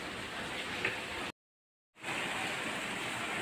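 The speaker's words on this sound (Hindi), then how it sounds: "काफ़ी तेज़ बारिश हो रही है।" Heavy rain pours down in Delhi as a loud, even hiss that cuts off briefly and then returns just as strong, with no one speaking.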